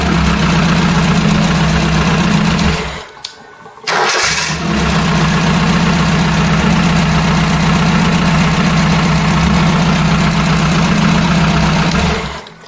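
A Ford Cortina GXL with a faulty alternator and a low battery runs loudly up close, cuts out briefly, then restarts and settles into a steady, rumbling idle.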